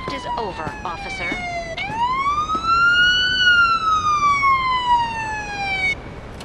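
Emergency siren in the video game Police Simulator: Patrol Officers, a loud, close electronic wail that dips, then rises and holds in a long sweeping tone before cutting off.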